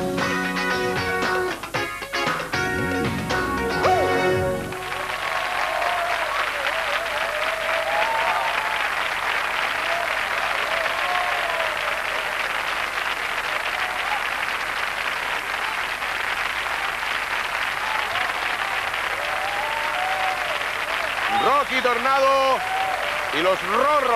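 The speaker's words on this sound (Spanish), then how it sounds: "un aplauso para ellos" Applause from a studio audience at a comedy parody show. A voice talks briefly, then sustained, even clapping from many hands fills the room for nearly twenty seconds, with faint voices near the end.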